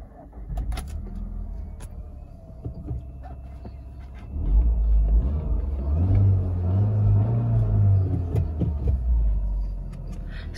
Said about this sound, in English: So let me start up this car, and of course it's manual.